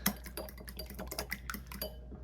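A whisk beats eggs in a small bowl, making quick, light, closely spaced ticking taps up close that continue steadily for about two seconds and then stop, with no talking.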